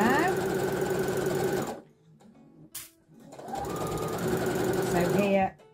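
A sewing machine stitches fabric for an infinity scarf, humming steadily at close range, then stopping briefly before starting up again with another long run of stitching.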